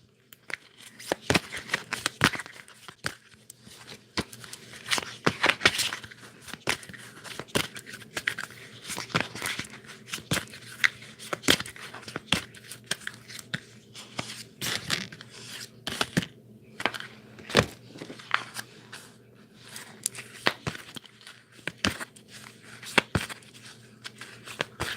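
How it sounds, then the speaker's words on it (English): Playing cards are shuffled repeatedly in a quiet room, a series of sharp riffling bursts and flicks at close range with brief pauses between them. "let me just shuffle one more time."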